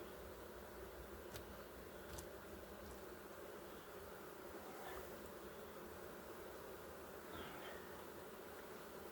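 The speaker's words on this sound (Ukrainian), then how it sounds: "тут поселилися бджоли і живуть" A dense, steady drone of many bees buzzing close by at a hive in a box, continuous throughout, with occasional individual bees flying past.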